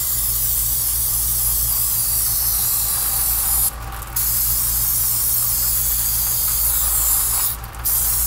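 GUNK brake parts cleaner sprayed onto a leaking brake wheel cylinder: a loud, continuous aerosol hiss close up, broken by two brief pauses where the spray stops and restarts, with no voices.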